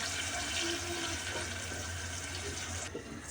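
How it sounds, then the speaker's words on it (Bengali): Water being poured into spices in a cooking pan, a steady gushing, splashing flow heard close for a few seconds, then easing off, with no talk. "অন্য একটু পানি দিয়ে দিব"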